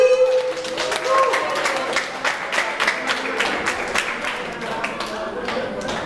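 Audience applause at a New Year's party on Corfu, a dense patter of many hands clapping steadily for several seconds, moderately loud, with a host's voice over the start.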